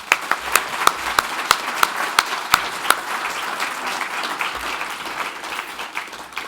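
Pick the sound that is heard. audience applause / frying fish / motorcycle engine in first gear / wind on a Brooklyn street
audience applause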